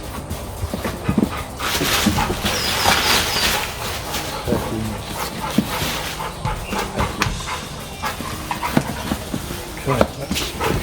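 A dog drinks water nearby, lapping and panting, while someone talks over it during an air conditioner compressor install on a Mitsubishi Pajero.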